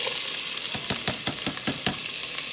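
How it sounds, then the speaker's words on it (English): Onions sizzling in hot oil in a pan for chana masala, a steady close hiss with a regular series of stirring scrapes through the middle, no one talking. "Our pan is hot. I'm going to add the oil. And then we're going to, that's pretty hot."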